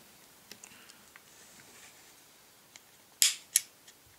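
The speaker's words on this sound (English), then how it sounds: "When you release the trigger" A Glock or Steyr pistol trigger is released, giving a couple of sharp metallic clicks close up after a few faint ticks of handling in a quiet room.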